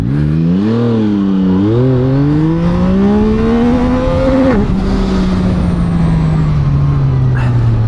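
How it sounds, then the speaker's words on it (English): A 2024 Yamaha MT-09 SP engine revs hard and loud up through rising pitch, bouncing off the rev limiter around the midpoint before the note falls away. "I've also never hit the limiter before on this bike."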